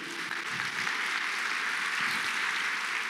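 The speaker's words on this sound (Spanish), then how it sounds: "Dele un fuerte aplauso al Señor." Church congregation gives a strong round of applause to the Lord at a Sunday service, a brief steady wash of many hands clapping at moderate volume.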